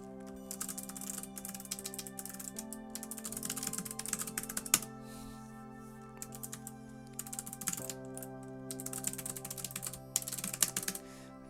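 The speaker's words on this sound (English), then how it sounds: "my typing speed is one of the things I do better than other people" Fast typing on a computer keyboard clatters in irregular bursts of crisp key clicks, fairly close, with short pauses between runs and a low steady hum underneath.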